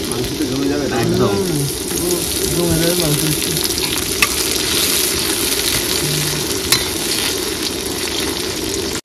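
Onion and tomato frying in a pan outdoors, a steady close sizzle with occasional stirring clinks, while voices talk over it.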